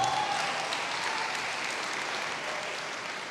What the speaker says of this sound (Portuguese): Dá um aplauso aí para Jesus.